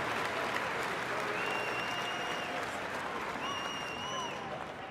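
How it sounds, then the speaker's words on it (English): A large crowd at an Ohio State game-day pep rally claps for students in a sustained round of applause, loud and even throughout, with a faint tonal backing underneath. "Please give them a round of applause"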